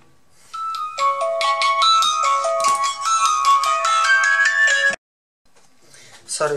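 A phone ringtone plays loudly as a repeating melodic tune for about four seconds, then cuts off, followed by a brief rustle during a Sony Vaio laptop disassembly and cleaning session.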